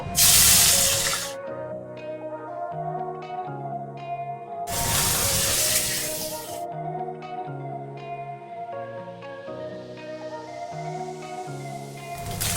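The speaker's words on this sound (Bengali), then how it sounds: "আমি এবার মাছগুলো ভেজে নেব।" Kajli fish fry in hot oil in a kadai, with two loud bursts of hissing, spattering sizzle over steady background music, the second fading into a quieter crackle.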